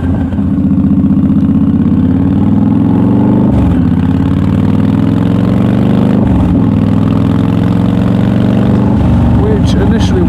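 A car engine idles and revs with a loud, steady exhaust rumble recorded up close on an H2N recorder, the pitch dipping and rising a few times.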